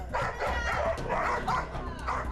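A Pungsan dog barks in a quick, close run of repeated yips and woofs, sounding agitated, with whimpering mixed in.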